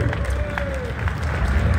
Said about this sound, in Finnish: Lähetetäänkö aplodit tuonne yläkertaan?